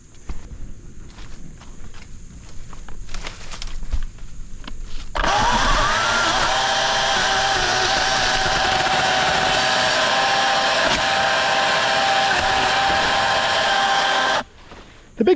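A cordless chainsaw cuts a tree branch: after a few seconds of handling noise and light knocks, the saw whines in a loud, steady high-pitched buzz for about nine seconds, then stops abruptly.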